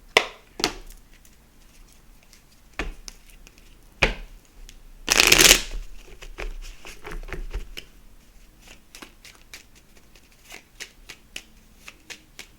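Angel Whispers oracle cards being shuffled by hand, with several quick crisp riffles and snaps, one longer dense flurry in the middle, then lighter tapping and handling of the deck, close and clear.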